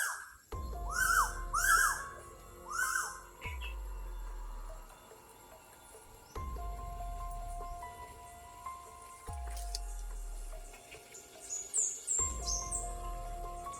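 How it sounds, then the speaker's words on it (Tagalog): Birds in a forest chirp and whistle in short bursts and scattered calls, broken by several low dull thumps in the background, with no voices. "yung mga ibon sa kagubatan mga master, no?"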